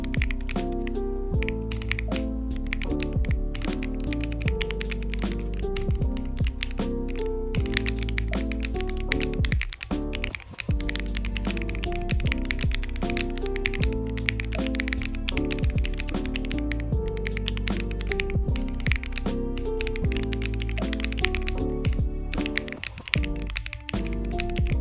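Rapid, continuous typing on a KiiBoom Loop 65 mechanical keyboard with an aluminium case, with close, crisp key clacks in a steady flurry and deep, thocky bottom-outs, no voices.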